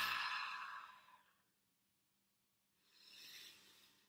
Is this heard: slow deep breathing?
yes